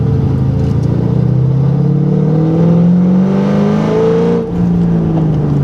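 A stock 3V Ford Mustang V8 on Nitto tires revs hard and accelerates, its loud engine note climbing steadily in pitch up close, with a brief dip near the end before pulling again.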